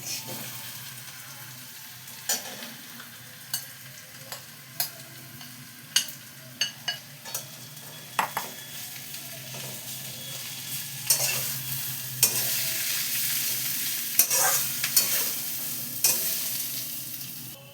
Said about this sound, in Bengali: এইবার এতে এই যে ঢ্যাঁড়সগুলো যে মাখিয়ে রেখেছিলাম বেসন দিয়ে, এটা দিয়ে দিচ্ছি